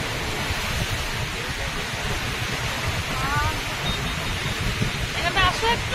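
Sea waves wash up at Mandarmoni beach, a steady broad roar of surf filling the whole stretch, with a voice speaking faintly over it.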